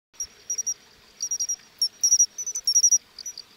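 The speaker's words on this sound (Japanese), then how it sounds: "高いんですよね、虫の声。" Autumn night insects, likely crickets, chirp in short high-pitched bursts, grouped pulses repeating steadily and close, with no voices over them.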